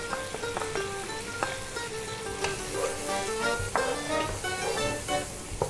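Raisins and yogurt sizzle steadily in a hot pan for beef pilau, with a spatula stirring and scraping in repeated close clinks over the frying hiss.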